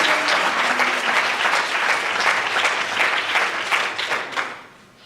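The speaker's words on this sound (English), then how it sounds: "Can I get a round of applause" An audience at a college violence prevention symposium applauding, dense sustained clapping for about four seconds before it fades out, with no talk over it.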